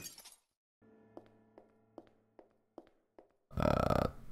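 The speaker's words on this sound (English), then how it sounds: "The case is cracked." In the Witch's House game, a glass case cracks as a series of sharp ticking snaps over a low hum, then a loud, brief crunching burst of breaking glass.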